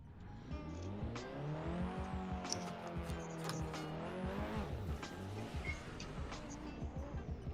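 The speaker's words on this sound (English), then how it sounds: "Those two cars are driving really nicely together." Two race cars drive together in Assetto Corsa, their engines droning and shifting pitch in overlapping tones, close and steady with revving swells and some tire squeal, with no talking.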